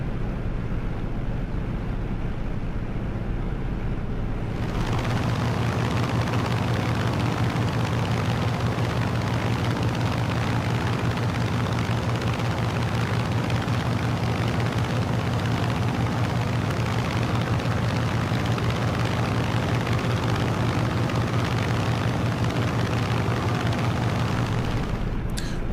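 Steady, loud radial-engine roar of an F6F Hellcat warbird in a flight simulator game, cruising over mountains after a brief quieter start, with no talking.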